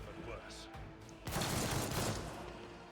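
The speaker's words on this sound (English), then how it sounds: "Oh, man, the shotguns are brutal." Shotgun fire in Warhammer 40,000: Rogue Trader: a loud, crunchy blast of gunfire bursts in partway through, following quieter game sounds, with a voice talking.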